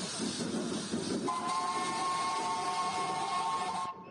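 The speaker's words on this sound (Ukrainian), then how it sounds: "Дим, пара і святковий гудок." A vintage narrow-gauge steam locomotive on the Haivoron line sounds a long, steady whistle over a background of hissing steam, the tone holding for about two and a half seconds before cutting off sharply.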